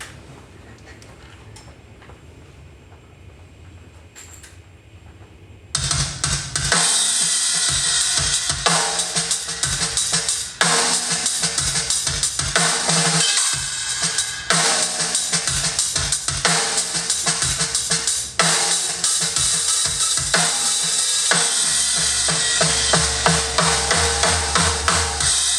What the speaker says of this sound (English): this is just the mixed live drums